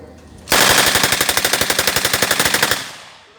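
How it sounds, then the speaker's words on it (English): A Russian World War II submachine gun, firing around 900 rounds per minute, lets off one long, very rapid automatic burst of about two seconds, loud and close, with a ringing tail after it stops. "with these Russian guns, they have a distinctive sound to them"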